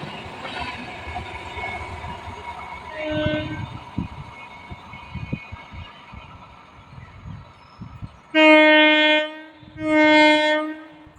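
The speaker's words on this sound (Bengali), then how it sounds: "এক্সপ্রেস ট্রেন আর লোকাল ট্রেন ছুটে আসছে" An express train rolls past with a clattering rumble, then sounds two loud, long horn blasts up close.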